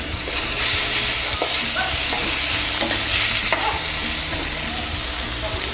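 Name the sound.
stir-frying carrots and beans in a pan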